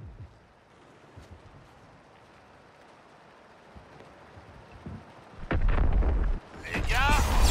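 Artillery fire in the Suicide Squad video game: a low, quiet rumble with soft distant thuds, then a loud heavy blast near the end followed by another roaring burst.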